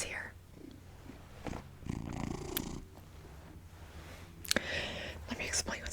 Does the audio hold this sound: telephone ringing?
no